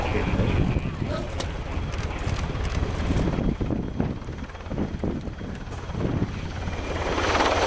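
A Finnish Army NH90 helicopter flies past at an air show, its loud, steady rotor and turbine roar filling the air with wind buffeting the microphone.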